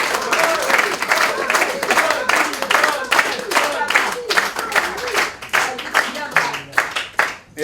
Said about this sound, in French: je vous demande une petite standing ovation